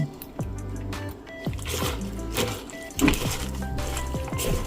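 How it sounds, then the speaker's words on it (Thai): Som tam dressing is poured over shredded kohlrabi and carrot in a bowl, making a soft, wet splashing and dribbling sound close by, with occasional squishy sloshes and background noise throughout. "เทน้ำยำลงไปเลย"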